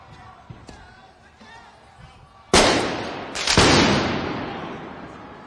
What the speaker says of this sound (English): They are letting off fireworks in the street.